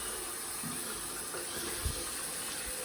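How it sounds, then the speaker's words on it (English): Water runs steadily from a tap after a drain was unclogged, a continuous even rush with a faint clunk partway through and no voices. "run the water."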